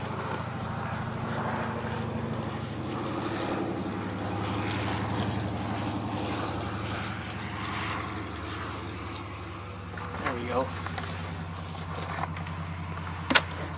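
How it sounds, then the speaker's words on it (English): A float plane landing near a marine airport, its propeller engine droning steadily at a moderate distance for a long stretch, with a few faint clicks and knocks close by. "Sorry, we got a float plane landing"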